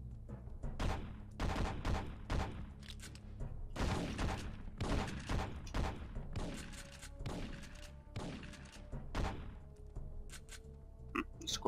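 A pistol-class gun fires repeatedly in the PlayStation game Syphon Filter 3, with loud, rapid bursts of shots coming in clustered volleys and echoing over steady background game noise.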